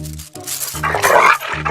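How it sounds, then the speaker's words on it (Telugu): A dog growls and snarls in short, loud, close bursts. "అరిచే కుక్క అరవదంటారు కదా, ఇది కరిచే కుక్క అస్సలు అరవదు."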